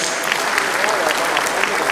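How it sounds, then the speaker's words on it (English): A town hall audience at a security meeting with a state governor claps loudly and steadily for security service commanders, a brief close burst of applause with a voice faintly underneath. "Please, they deserve a big round of applause."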